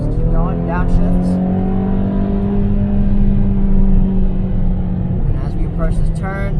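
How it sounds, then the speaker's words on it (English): 2013 Ferrari California V8 heard from inside the cabin, engine note rising under acceleration and shifting, with someone talking over the loud steady rumble. "if you wanted to get on it, just floor it, puts you right to the right gear"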